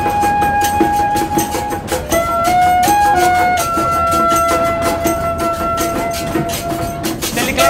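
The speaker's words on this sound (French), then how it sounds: "C'est le klaxon du train," A Brazilian train horn sounds in a melodious run of several sustained, shifting notes over the steady clatter and rumble of the train passing close by, loud throughout.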